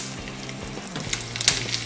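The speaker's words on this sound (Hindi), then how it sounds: "राई फूटने के बाद हम इसमें ये 1 चम्मच हींग डालेंगे" Asafoetida drops into a sizzling mustard seed tempering in hot oil, making a steady close frying hiss with a few crackling pops toward the end. Nobody speaks.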